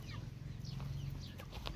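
Chickens cluck in short, repeated calls on a rural Thai farm, fairly close, over a low background hum.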